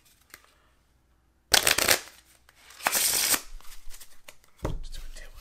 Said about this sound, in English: Let's do a quick shuffle with them too.